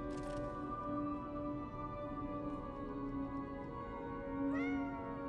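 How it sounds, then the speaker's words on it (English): Cat meowing in the Lies of P video game, a few short meows over a steady tonal game ambience with a rising whistle-like tone near the end, moderately close. "Can I mess with that cat?"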